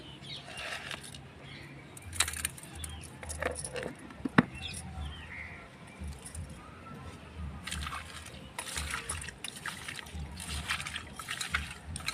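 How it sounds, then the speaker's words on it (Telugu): Snail meat is washed by hand with water, turmeric and salt, giving quiet close trickling and sloshing with intermittent splashy bursts and small clinks. "పసుపును ఉప్పు వేసుకుని ఒకసారి కడుక్కుందాం మళ్ళా"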